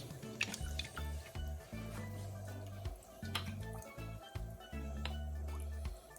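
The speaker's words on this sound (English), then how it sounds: "Now I'm pouring my water in." Water poured into a pot of Jamaican stew peas, soft dripping and squishing liquid sounds that are faint and intermittent, with low background hum in short bursts.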